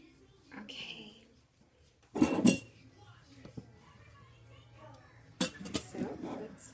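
A ladle and spoon clink against a jar while it is being filled, giving two short bursts of clattering knocks separated by quiet handling noise.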